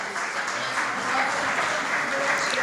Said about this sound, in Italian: Facciamo un altro applauso mentre si congedano